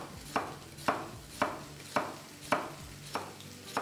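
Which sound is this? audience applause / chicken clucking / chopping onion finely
chopping onion finely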